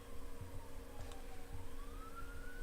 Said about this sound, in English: There was a siren.